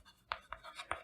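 Pen or marker writing during a calorimetry lesson: a few short, bright scratching strokes in quick succession, close and fairly quiet, with no talk over them.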